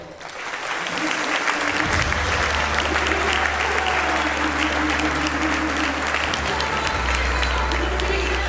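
Audience applause welcoming Harris County Judge Lina Hidalgo to a State of the County address, a sustained, dense clapping from a large crowd filling the room steadily throughout.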